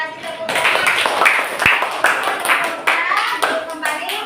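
A classroom of children clapping together in a brisk, rhythmic round of applause, loud and close, with a teacher's voice speaking over the claps.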